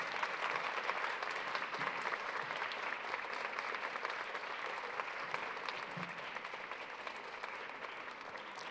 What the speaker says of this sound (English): stand up, turn around, and applaud those who helped you get here today